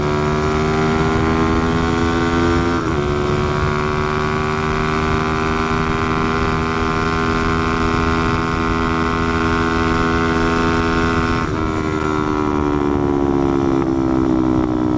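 Motorcycle accelerating hard in fourth gear from 40 on a slightly downhill road, a loud steady engine drone whose pitch climbs continuously, with two brief dips at gear-like pauses, heard up close with no talking.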